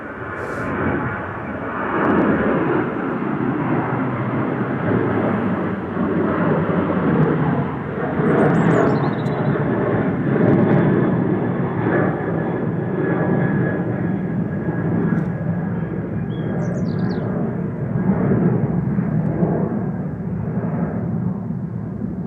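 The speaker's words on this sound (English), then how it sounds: "I'm listening out for the Qatar departing." A Qatar Airways jet departs Manchester Airport, its engine roar steady and broad throughout, swelling and easing slightly as it climbs away at a moderate distance, with no voices.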